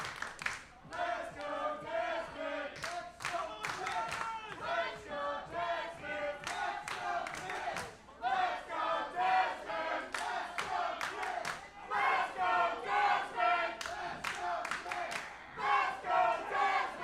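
A large crowd at a fighting event roars and shouts continuously, with swelling cheers and chanting rising and falling in waves, loud and close with no clear individual speech.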